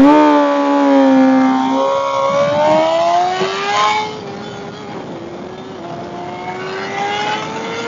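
An Energica EGO RS electric motorcycle accelerating hard down a drag strip, its motor whine rising steadily in pitch, dropping at a shift, then climbing again, loud and close against wind noise.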